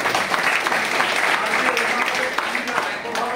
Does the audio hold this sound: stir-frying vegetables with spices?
no